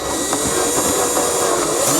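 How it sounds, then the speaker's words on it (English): A power drill with a 5/8 inch bit enlarges a hole in the center of a plastic bucket, a continuous whirring grind that stays loud and steady through the short stretch. "switched drill bits to a 5/8 drill bit and is going to enlarge the hole again in the very center of the top bucket"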